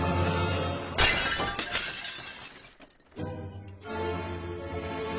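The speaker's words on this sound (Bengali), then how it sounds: "সেই সময় গুলিটা কাঁচ ভেঙে ঘরের ভেতরে এসে পড়ে।" A glass window shatters when a ball smashes through it: one sudden loud crash followed by a brief spray of tinkling shards, set against soft background music.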